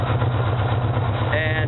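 A 2004 Yamaha Warrior ATV engine idles while running lean with high exhaust gas temperature. It makes a steady, close, low mechanical hum with an even pulse throughout.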